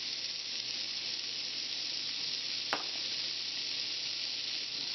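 Chicken sizzles in lard and grease in a pan with a constant, dense hiss that stays even throughout, and a single faint click partway through.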